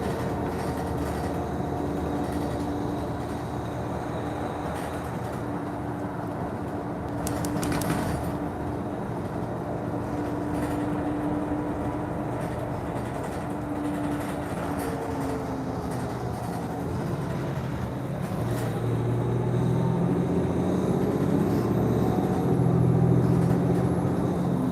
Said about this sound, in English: The loud diesel engine with the acceleration and deceleration in the vehicle